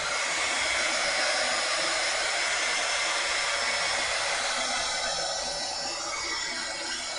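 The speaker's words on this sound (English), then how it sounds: "I can't keep the heat gun on it too close or I'll melt the plastic" Heat gun blowing hot air over a sticky art journal page, a loud steady high-pitched airy whoosh that runs continuously, easing slightly toward the end.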